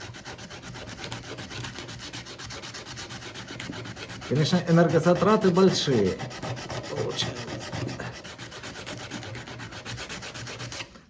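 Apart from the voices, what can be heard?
hand sanding metal with sandpaper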